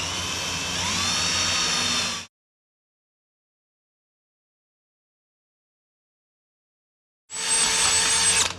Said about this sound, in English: I need to drill a hole here.